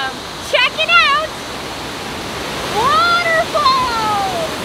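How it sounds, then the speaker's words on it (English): A waterfall crashes white and bubbling over rocks outdoors, a steady, loud broadband roar that continues under a person's speaking voice. "The water's like white and bubbling over the rocks and crashing."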